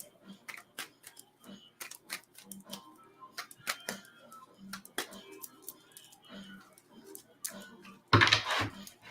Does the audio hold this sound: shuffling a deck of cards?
yes